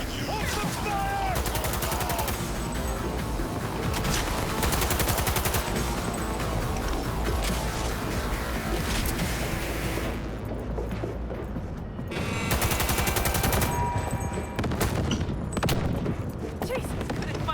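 Sustained gunfire in the video game Cyberpunk 2077 during a raid, dense automatic bursts and heavy shots continuing throughout, with brief lulls and voices shouting over the shooting.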